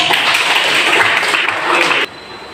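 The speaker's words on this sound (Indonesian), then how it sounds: "Tepuk tangan untuk kelompok." A group claps together in a dense burst of applause that carries on for about two seconds, then stops abruptly.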